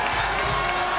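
A packed stadium crowd at a 2002 Yates Cup university football game between Mac and Queens roars and cheers loudly and continuously, a dense wall of noise filling the whole moment.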